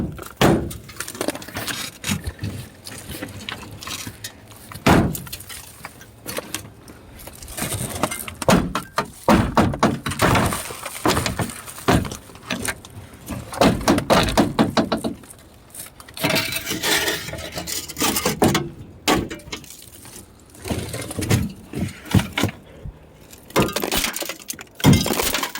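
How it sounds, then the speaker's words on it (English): Someone breaks the passenger side window glass of an old, abandoned junkyard truck: repeated close, sharp impacts and crunching, tinkling shards continue in uneven bursts throughout, with no talking. "Look, I broke the passenger side glass."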